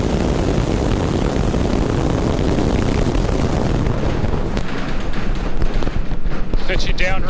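A SpaceX Starship rocket lifts off, and its engines put out a loud, continuous broadband roar with heavy rumble that fills the clip. Near the end the roar grows crackly and uneven.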